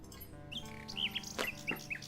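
A nightingale in the King's Quest VI video game chirps in a few short, bright tweets and trills, close and clear over a faint background hum.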